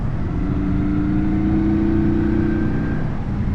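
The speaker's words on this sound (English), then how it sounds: "hearing that thumpy V-twin go to work as soon as you power through that corner" A Kawasaki VN900 Custom V-twin motorcycle engine drones steadily and loudly, its pitch slowly climbing as it accelerates without a break.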